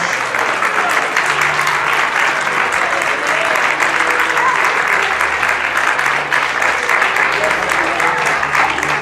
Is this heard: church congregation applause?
yes